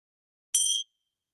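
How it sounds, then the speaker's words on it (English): A single bright metallic ting from a bell, short and clear, with a brief ringing tail fading into silence. "we're going to begin with the bell"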